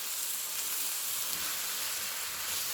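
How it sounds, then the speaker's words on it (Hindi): Chicken for a curry frying in a pan makes a continuous, even sizzle and hiss, close and steady, with no talking. "चिकन डालकर आपने इसको भूनना है तकरीबन 10 to 12 मिनट्स आपने चिकन डाल के भूनना है।"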